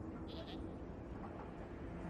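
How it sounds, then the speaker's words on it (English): A video game creature gives a short pair of goat-like bleats midway through a dense game soundscape. It is brief and moderately clear above the steady background noise. "Why does it sound like a goat? Who gave it goat noises?"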